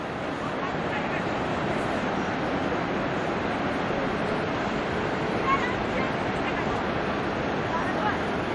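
A snow-fed mountain river rushing down over rocks and carrying broken stone near Govindghat on the way to Badrinath, a loud, steady broadband roar with no breaks.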